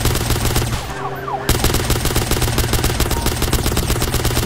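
Rapid automatic gunfire rattles nonstop in GTA on the Liberty City test map, a loud, dense stream of shots with one brief dip before the firing resumes.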